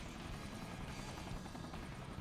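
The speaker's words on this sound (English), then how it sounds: "Okay, I get to ride a helicopter." A helicopter in the video game Sonic Generations gives off a steady whirring rotor drone, continuous and fairly even throughout with no talk over it.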